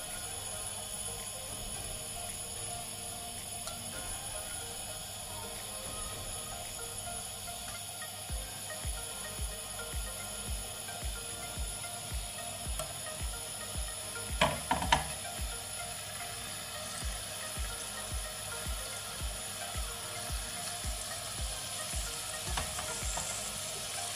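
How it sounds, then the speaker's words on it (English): Bengali fish pieces frying one by one in hot oil, a constant dense sizzle running throughout with a faint rhythmic ticking underneath and a brief louder clatter midway, no voices. "Once the oil hot, then I'm going to put the fish in one by one."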